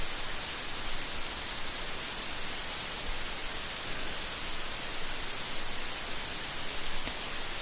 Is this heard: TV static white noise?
yes